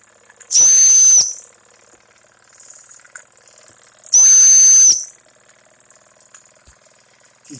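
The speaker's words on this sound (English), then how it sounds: "The steam engine." A Jensen Model 25 toy steam engine gives two sharp, loud hissing bursts with a whistle-like tone, about three seconds apart. Faint mechanical ticking runs between them.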